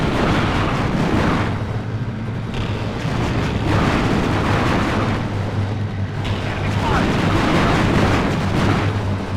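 Tank fire and explosions in the WARNO strategy video game, with Leopard tanks fighting across fields: a dense, continuous roar of distant booming shots and rumbling blasts, heavy and unbroken throughout.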